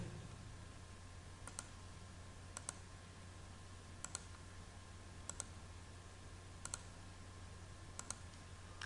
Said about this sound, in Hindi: राइट क्लिक करता हूँ मैं।